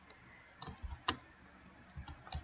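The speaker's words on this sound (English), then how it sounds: "we're just going to type out Merry" Keystrokes on a computer keyboard typing out a short holiday greeting, a sparse run of light clicks with a few sharper taps, close and quiet with no talking.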